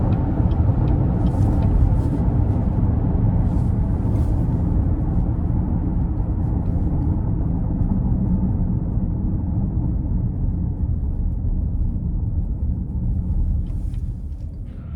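2026 Cadillac XT5 Sport SUV cruising in all-wheel drive mode, heard as a steady low rumble of road and engine noise from inside the cabin that fades slightly toward the end, with no talking.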